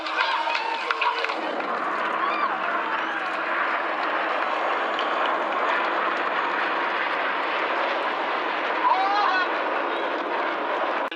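Red Arrows jets sweep through an air display at Clacton, a broad, loud roar of aircraft engines sustained across the scene, with a commentator talking over it and faint crowd sounds beneath.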